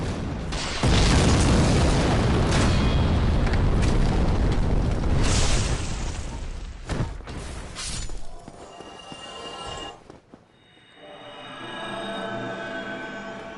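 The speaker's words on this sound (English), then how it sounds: "Because that explosion takes up a lot of the arena." A bomb explodes in a Dark Souls boss arena: a loud, sustained blast and rumble fills about ten seconds, breaks into a few sharp bursts, then drops to a quieter ringing tail.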